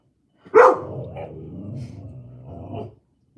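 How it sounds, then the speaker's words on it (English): A dog named Bear, an overprotective pet, lets out one sharp close bark that trails into a low growling, grumbling vocalisation lasting a few seconds in a quiet indoor room. "sometimes you might end up hearing my dog Bear in the background because he's overprotective."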